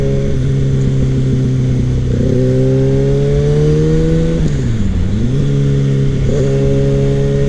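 A 2016 Kawasaki ZX6R 636 sport motorcycle pulls hard, its engine note rising steadily through the gears, dipping briefly at a shift before climbing again, loud and close under constant wind roar.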